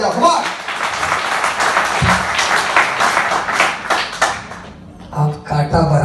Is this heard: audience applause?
yes